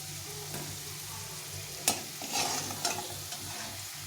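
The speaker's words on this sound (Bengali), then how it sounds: "ভালো করে লাল লাল করে ভেজে নেব" Potatoes being fried in a pan until browned, with a soft continuous sizzle under scraping stirs and a few sharper clinks of a spatula against the pan, close by.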